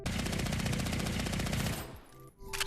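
Rapid automatic fire from a Vector submachine gun in the VR shooter Contractors, a dense, steady burst lasting nearly two seconds before cutting off, then a brief quieter tail with a faint restart at the end.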